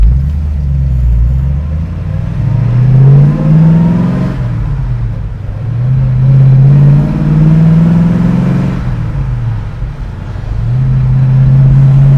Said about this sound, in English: Cruising in third and down into fourth.